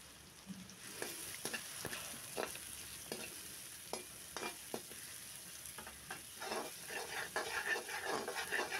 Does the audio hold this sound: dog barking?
no